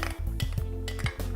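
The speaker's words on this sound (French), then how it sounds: "On va maintenant mettre nos gombos écrasés dans la casserole." Crushed okra scraped into a metal saucepan while cooking a spinach and okra sauce, with several close clinks and knocks of utensil against pan over a steady hum of kitchen background.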